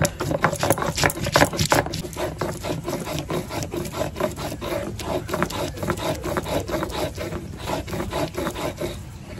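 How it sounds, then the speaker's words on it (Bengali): Whole garam masala of cinnamon, cardamom and cloves is ground into a fine paste, making a continuous rhythmic rasping scrape with repeated back-and-forth strokes, close and fairly loud throughout, with no voices. "তো এখন গরম মশলাটা বেটে দিই।"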